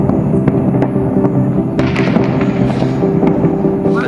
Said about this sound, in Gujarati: આ છે મોરબી નો નજારો કેવા ફટાકડા ફૂટે હે મોરબી માં